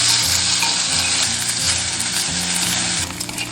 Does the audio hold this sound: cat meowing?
no